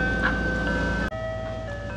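Mister Softee ice cream truck parked near a New York City cruise terminal, its looping chime melody ringing out clearly over a low idling engine, with a brief break partway through.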